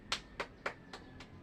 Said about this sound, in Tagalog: bigyan natin ng palakpak ang ating mga sarili